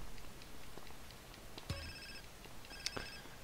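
Faint ringing of a phone in the GTA San Andreas video game, two short electronic rings spaced about a second apart, quiet under a low background hum.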